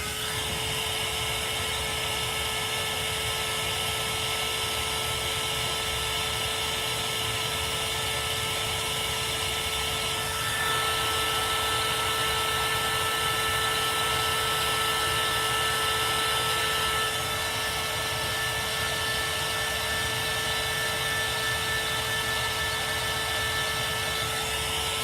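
Dryer blowing steadily on freshly painted chalk-paint work, a loud continuous whirring hum with a constant whine that holds for the whole stretch, no talking.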